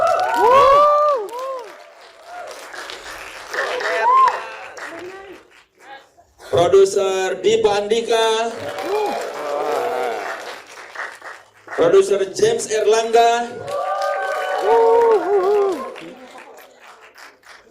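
Press conference audience applauding and cheering for a film's producers, bursts of clapping rising in waves beneath a host who keeps talking over the crowd.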